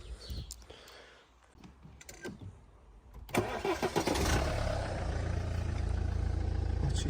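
Diesel engine of a BMW E91 320D with a blocked DPF, starting after some clunking handling noises, then running steadily and loudly at raised revs close by.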